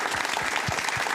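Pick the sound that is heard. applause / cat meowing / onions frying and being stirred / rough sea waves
applause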